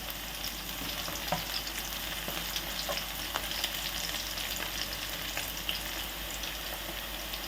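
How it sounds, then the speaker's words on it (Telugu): Curry leaves frying in hot oil for a Telangana-style fish curry, a constant close sizzle with occasional sharper crackles and stirring scrapes, no voices. "కొద్దిగా కరివేపాకు వేసుకుందాం. ఇలా మంచిగా ఫ్రై అయిన తర్వాత"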